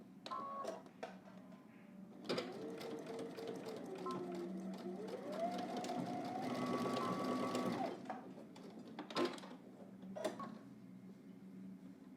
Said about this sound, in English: we're gonna stitch across here through all layers, okay? So let's head to the machine